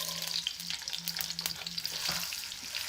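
A large onion fries in a cup of oil with a bright, steady sizzle and crackle, and a spoon stirs through it now and then, close and fairly loud.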